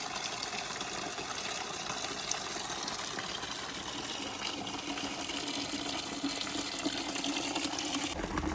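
Water gushes steadily from a tap into a bucket, a constant rushing flow that continues for several seconds.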